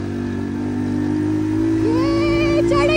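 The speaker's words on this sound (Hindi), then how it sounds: "अब देखते हैं ये बाइक चढ़ पाती है ऊपर की नहीं चढ़ पाती।" A motorcycle climbs a slope at full speed, its engine a steady loud drone that rises in pitch toward the end as it pushes upward, close by with no talk over it.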